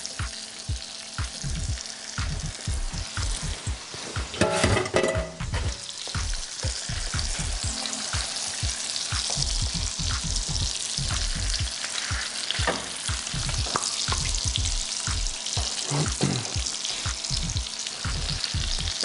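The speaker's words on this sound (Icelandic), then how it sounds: "Þá tökum við bara lambáskankana, þessa fínu skanka og steikjum þá bara vel og vandlega." Lamb shanks fry in browned butter in a pan, giving a steady, close, dense sizzle with crackling pops throughout and no voices.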